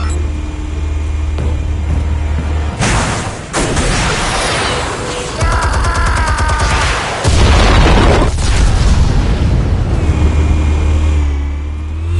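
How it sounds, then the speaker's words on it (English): Explosives detonating in a Batman video game, loud booming blasts and bursts after a low rumbling hum, with crackling debris and a tonal whine between the heavy explosions. "Explosives armed. Fire when ready."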